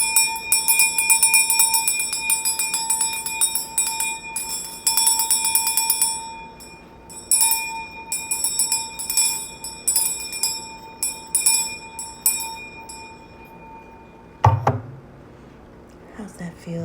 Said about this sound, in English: We'll start with a cleansing with my Mother Ocean's bell. Sound cleansing.